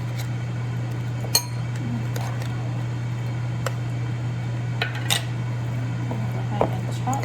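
Canned sardines being chopped in a bowl with a utensil, a series of soft, sparse clinks and taps against the bowl over a steady low kitchen hum, quiet and close.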